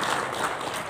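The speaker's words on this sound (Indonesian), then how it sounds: "Tepuk tangan buat kita Bapak Ibu ya." Audience applause at a national seminar in Jakarta, a dense continuous patter of many hands clapping at steady loudness through the short moment.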